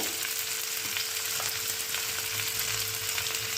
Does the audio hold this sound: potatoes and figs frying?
yes